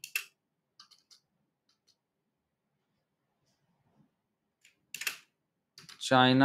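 A few scattered keystrokes on a computer keyboard typing a short search query, faint and sparse clicks separated by pauses, ending in a louder burst of sound.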